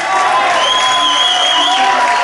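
A rock concert crowd at a music venue applauds and cheers for a band member as he is introduced, a loud, sustained roar of clapping with bright tonal sound riding over it.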